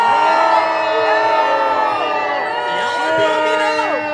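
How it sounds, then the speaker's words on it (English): Crowd at a Gatorland alligator show in Orlando booing and jeering together, a dense sustained roar of many voices at steady loudness throughout, with whoops and shouts mixed into the din. "Y'all are booing me now?"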